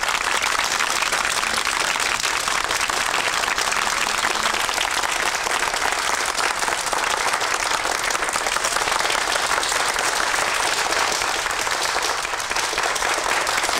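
Loud, continuous applause from a large gathered crowd at an outdoor Pontic Greek gathering in 1986, dense clapping filling the whole stretch without a break.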